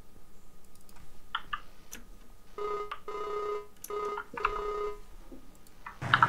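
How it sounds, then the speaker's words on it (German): Phone number being dialed in Farming Simulator: a series of short electronic keypad tones in irregular bursts, then a brief ringing tone at the end, with no talking. "wir gehen jetzt mal erst telefonieren"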